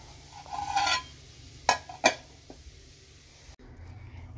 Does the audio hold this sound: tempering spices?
yes